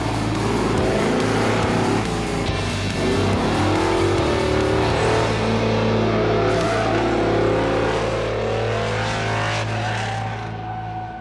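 A highly modified Chevrolet Camaro races around an autocross course, its V8 engine roaring loud and near with rising and falling revs through gear changes and turns, fading slightly at the end.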